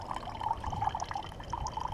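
Muddy water drips and trickles through a water filter into a container, a continuous fine liquid patter with small droplet plinks, fairly quiet and close.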